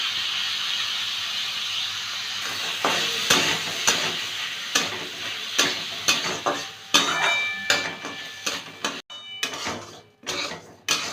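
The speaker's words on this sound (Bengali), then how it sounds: "কড়াইতে একটু ঘি দিয়েছি। প্রথমে চালটা ভেজে নেব।" Half a cup of washed, drained Gobindobhog rice frying in a little ghee in a wok, with a steady sizzle under repeated sharp scrapes and clinks of a spatula stirring against the metal, close and fairly loud.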